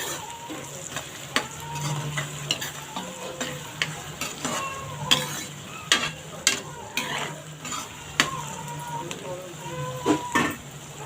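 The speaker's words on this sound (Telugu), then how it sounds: "ఒకసారి తిప్పుకుని ఇంకో మరొక ఐదు నిమిషాలు అయితే వేయించుకుందామండి" Onions and farm chicken with raw masala frying in a pan, a constant low sizzle broken by repeated sharp scrapes and taps of a stirring spoon, close by.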